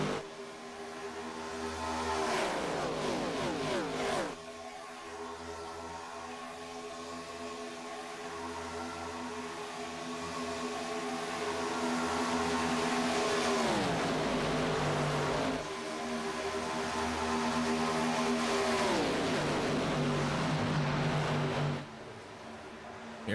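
Race cars in a racing video game drive onto pit road, their engines droning with harmonic whines that repeatedly rise and fall as each car downshifts and slows, in a loud, steady stream with no talk.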